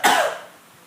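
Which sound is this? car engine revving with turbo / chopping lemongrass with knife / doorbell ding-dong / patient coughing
patient coughing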